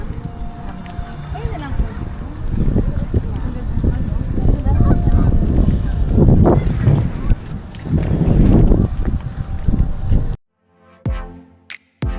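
Ducks honking repeatedly amid loud outdoor bustle and wind at a water lantern festival, with people talking over the calls.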